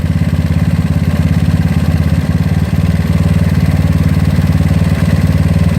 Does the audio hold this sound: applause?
no